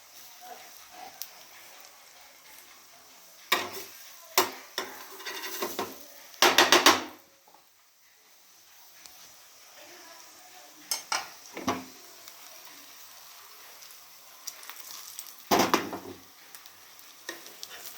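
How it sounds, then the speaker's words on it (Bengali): Food frying on both sides in a pan, a faint sizzle punctuated by scattered clattering turns and utensil scrapes against cookware, with intermittent quiet gaps. "সুন্দর করে দু পিঠ ভেজে নিতে হবে"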